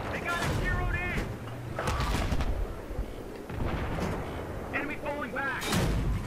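Tank cannon fire in the Battlefield 3 tank warfare campaign: repeated loud booming shots and rumbling explosions across the clip, with a speaking voice over the battle.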